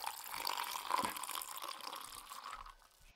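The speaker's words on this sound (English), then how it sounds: "you can pour the orange juice" Orange juice pours into a cup in a Minecraft Bedrock furniture mod, a short, soft, steady liquid trickle lasting about three seconds and fading at the end.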